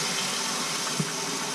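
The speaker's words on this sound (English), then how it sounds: "Let's turn on the water and see what happens." A Kohler kitchen faucet runs with water pouring steadily into the sink, a constant broadband rush with one small thump near the middle, close and alone with no talk.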